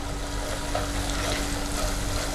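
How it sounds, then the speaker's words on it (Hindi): Powdered spices and two green chillies frying in a pan for a chickpea curry, a steady, close hiss and sizzle that holds evenly throughout with no talking. "और इन्हें थोड़ा भूनेंगे।"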